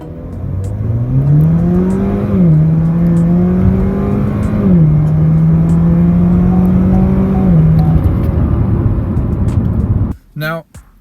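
A 2018 Chevrolet Camaro convertible with a 2.0-litre turbo four-cylinder accelerates hard from a standstill in sport mode, the engine climbing through several upshifts in a steady droning rise before cutting off abruptly near the end, with a voice faintly underneath.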